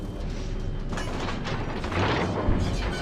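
Battleship gunfire traded in World of Warships Legends, a West Virginia tier 5 premium battleship in play: a continuous rumbling din with muffled booms swelling around the middle and a heavier thump near the end, no clear talk.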